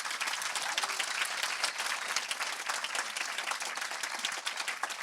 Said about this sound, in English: can we have a massive round of applause from the contributions from the audience